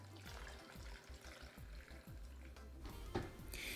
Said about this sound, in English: Add 2 cups of water.